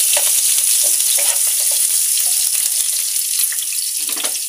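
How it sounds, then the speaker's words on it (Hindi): Chopped onions frying in hot oil with curry leaves for a masala chicken keema, a steady close bright sizzle with occasional stirring scrapes and crackles, no talking. "यहाँ पर देखिए कटे हुए जो है कांदे सभी ऐड कर देंगे। इसको ब्राउन कलर का भूनना है।"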